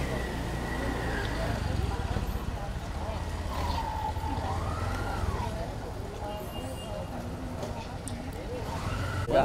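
A faint ambulance siren wails up and down beneath a steady din of traffic and murmuring voices.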